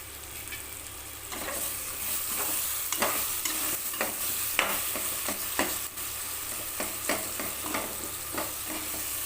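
Tomatoes sautéing in a pan for a soya and green pea rice dish, a continuous low sizzle broken by repeated scraping strokes of a spoon stirring, fairly close and moderately quiet, with no talking.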